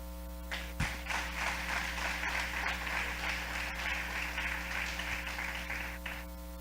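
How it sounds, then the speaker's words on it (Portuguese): A church congregation applauds during a Sunday school service. Steady clapping from many hands runs for about six seconds over a constant electrical hum, then stops abruptly. "Aplaudamos ao Senhor."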